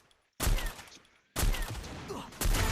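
Sniper rifle fire in a mobile battle royale tournament match, with three loud sharp gunshot bursts that each decay into a noisy echo tail, separated by short quiet gaps.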